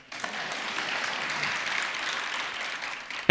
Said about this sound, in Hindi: सही है तो ढंग से ताली बजा।